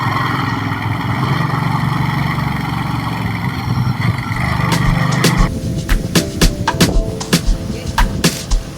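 A Ducati Monster SP 950 motorcycle engine drones steadily while riding, then its tone drops and a run of sharp knocks and thumps follows, close and loud.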